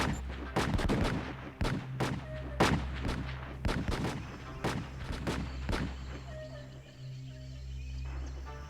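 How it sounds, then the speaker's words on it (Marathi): Rapid rifle gunfire in a police tactical training film against insurgents, a burst of loud sharp cracks in quick succession through the first half, then thinning to scattered shots over a steady low rumble. "जवानांनी नक्षलवाद्यांवर प्रत्युत्तरादाखल गोळीबार सुरू केला"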